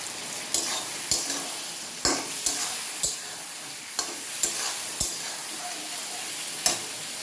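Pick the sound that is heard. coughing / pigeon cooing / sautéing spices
sautéing spices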